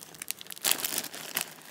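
A little bag of sewing notions such as zippers, thread, needles and clips being rummaged through up close, giving brief crinkly plastic rustles and crumples that swell into a louder rustle midway before settling.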